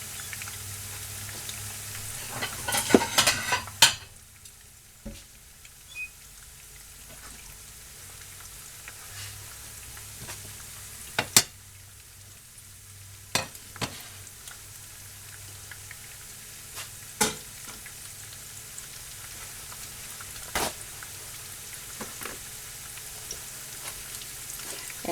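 Taquitos fry in hot oil toward golden brown and crispy, a soft steady sizzle with a few louder crackles and pops scattered throughout, faint and close with no talking.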